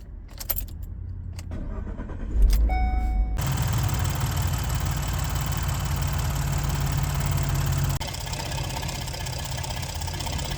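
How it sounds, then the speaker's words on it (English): Keys jangle briefly, then a van engine with a new throttle body cranks and catches, settling into a steady, even idle that continues to the end. "I'm going to start the vehicle and let it run"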